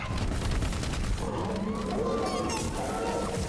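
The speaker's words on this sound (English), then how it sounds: "Sounds about right for a giant bug anti-air cannon." In the Deep Rock Galactic video game, a giant bug anti-air cannon fires a rapid burst of heavy rumbling shots with booming low impacts, while a player talks over the gunfire.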